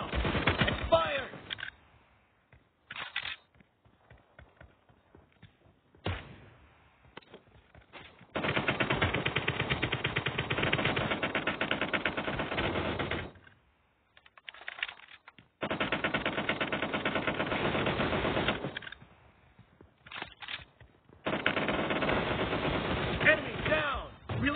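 SCAR-L assault rifle fire in a PUBG Mobile team deathmatch in a warehouse: long sustained automatic bursts and shorter rattling volleys broken by pauses, loud and close.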